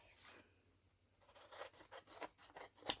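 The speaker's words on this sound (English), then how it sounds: "sticky scissors." Snipping and rasping of scissors cutting paper during envelope crafting, a quick run of close, dry cuts and rubs after a brief pause, with a sharper click at the end.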